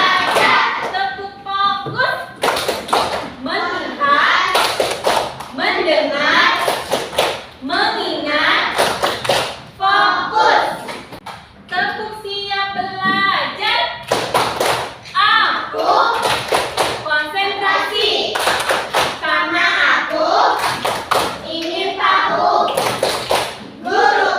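Third-grade pupils in a classroom doing a rhythmic counting clap chant, bursts of sharp group claps alternating with children's chanting voices, repeated in sets across the whole stretch, close and loud.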